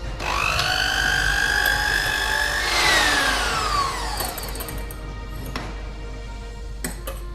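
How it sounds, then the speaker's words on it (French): An electric hand mixer whips egg whites for fluffy pancakes, its motor whine rising and then sliding down in pitch as it runs steadily and loudly, with no talk. "Je prends mon batteur électrique, je branche et c'est parti."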